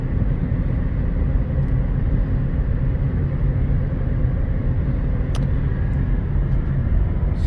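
A 2013 Ford Fusion Hybrid SE cruises at 68 mph, giving a loud, constant broadband road and wind roar from inside the cabin, with one brief faint click partway through and no talking.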